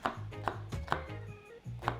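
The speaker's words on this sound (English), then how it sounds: "Chop, chop, chop. I'm not a chopper, but I'm chopping." Knife chopping sweet pepper, cabbage and carrots for a fresh salad on a board, about five firm, evenly spaced chops close by with no talking.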